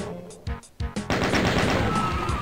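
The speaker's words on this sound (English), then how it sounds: "there goes my chain gun" A chaingun in Ultimate Doom fires in a loud, rapid burst: a few separate shots at first, then an unbroken stream of fast, close rounds.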